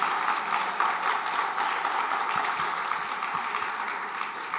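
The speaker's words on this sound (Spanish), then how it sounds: "Dale ese aplauso al Señor." Steady applause fills a church service, a dense, even wash of many hands clapping from a large congregation, continuing without break and with no speech heard over it.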